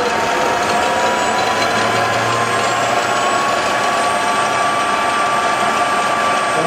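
Siemens AC electric motor driven by a DMOC controller, running with no load, gives off a loud, steady whine with a broad mechanical hum, holding at a constant level throughout with no talk.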